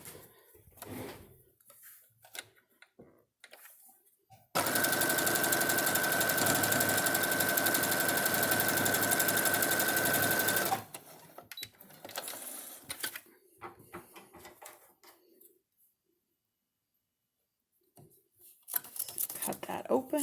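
A sewing machine stitches a fabric table runner in one steady, loud, continuous whirring run of about six seconds, framed by quieter handling sounds and a person talking.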